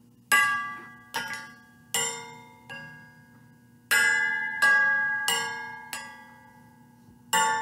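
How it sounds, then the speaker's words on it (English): A sequence of resonant bell chimes, about nine strikes at a slow steady pace, each ringing out and decaying before the next, in a tune like a clock tower. "now we're going to hear copyrighted chimes."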